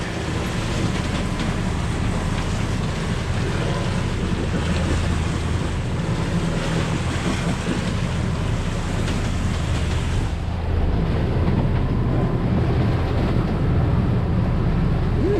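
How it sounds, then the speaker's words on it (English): Loud, continuous ocean waves surge and wash around a rocking sailboat on an overnight passage, with heavy wind buffeting the microphone throughout. "how big some of these waves are, or how much the boat is rocking and rolling"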